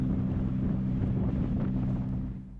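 A small dinghy moves across open water near Moreton Island, its outboard drone and rushing wind and water noise filling the short stretch at steady loudness before easing slightly at the end, with no voices.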